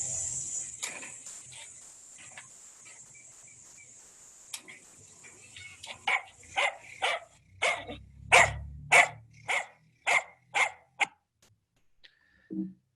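Dogs bark in a rapid run of sharp, loud barks after some quieter yips and rustling, then fall silent.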